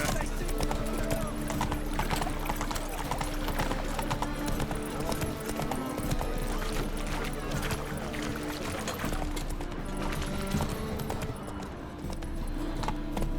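Roach, a horse in The Witcher 3, gallops with a fast, rhythmic clip-clop of hooves that runs steady throughout, close and clear, amid game sounds and a voice speaking now and then.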